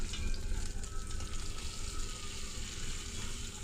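Sardine fish fry in hot oil in a pan with a dense, steady sizzle, loud and close with no talking.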